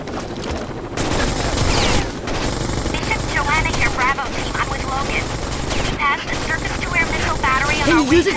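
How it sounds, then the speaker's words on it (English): A combat helicopter in Rainbow Six Vegas 2 with loud, sustained rotor roar and bursts of rapid automatic gunfire, dense and close, with game voices and effects layered in the mix. "They have a combat chopper here."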